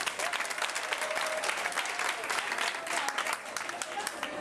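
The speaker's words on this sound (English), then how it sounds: "Can you clap for yourselves?" An audience at an event claps for itself, a continuous, fairly quiet patter of many hands held at a steady level from start to finish.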